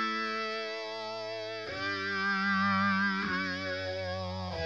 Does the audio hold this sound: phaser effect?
yes